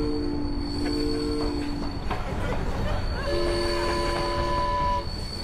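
Train on a slow German rail line rumbles steadily past with sustained tonal whines and squeals from the wheels, fairly close throughout, and a voice can be faintly heard over it.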